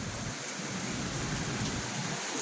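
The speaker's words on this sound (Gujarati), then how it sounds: "તો સારો એવો વરસાદ આવી રહ્યો છે." Good steady rain falls outside on a humid day, a soft continuous hiss of drops on surfaces with a faint low rumble underneath, even and unbroken.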